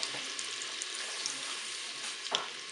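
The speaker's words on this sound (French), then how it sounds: "je vais replonger mes tranches de magret dans ma cuve" Slices of duck breast sizzle steadily in a Cookeo multicooker pot, a dense, continuous frying hiss with a couple of faint clinks, close and fairly loud, no talk.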